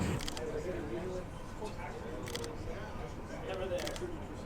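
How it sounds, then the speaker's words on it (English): Several quick, soft shutter clicks from a Fuji X-H1 camera, some in short bursts, sit under someone talking over a faint background hum. "That shutter, I didn't realize how silent it was."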